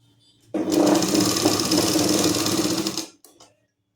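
A sewing machine stitches a salwar in one continuous loud run of about two and a half seconds, its rapid mechanical whir starting abruptly and then stopping, with a brief faint rattle afterward.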